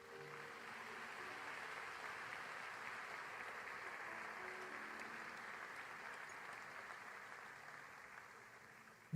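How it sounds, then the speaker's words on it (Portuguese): Congregation applause at an evening church worship service, a fairly steady, soft wash of many hands clapping that carries through and slowly fades at the end. "Dê um aplauso ao Senhor."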